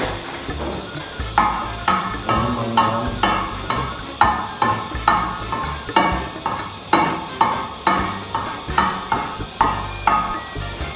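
Loud frying of rhinoceros beetles with garlic in a gas-stove pan, rhythmic scraping and clanking of a utensil, oil sizzling and spitting throughout, close and busy.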